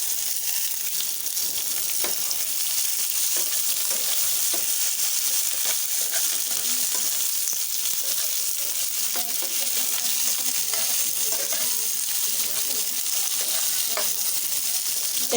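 Capsicum and onions frying together in a hot pan, an even, sustained sizzle close by with scattered crackles and the light scrape and tap of stirring, no speech.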